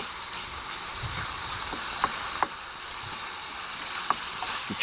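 Ground beef fries in a camp mess kit, giving a steady close sizzle and hiss with a few faint clicks of stirring and no voices.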